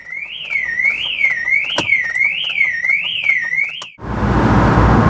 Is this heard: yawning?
no